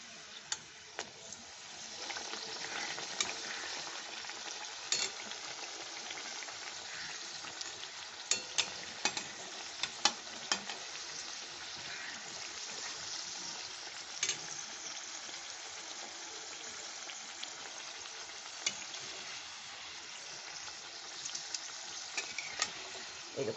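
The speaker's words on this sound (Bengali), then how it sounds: "এইভাবে সবগুলো ভেজে আমি এটা দিয়ে দিলাম, আরেকটা দিয়ে ভেজে নিচ্ছি।" Tandoori kabab samosas frying in hot oil, a dense continuous sizzle and crackle throughout with scattered sharp pops, steady and fairly close, no voices.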